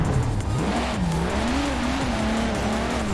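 Car drifting in the video game Forza Horizon 4, played with a new steering wheel: a steady engine drone with a wavering pitch and a continuous tire squeal, loud and unbroken throughout, with no talking.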